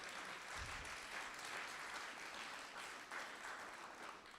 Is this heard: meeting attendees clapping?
yes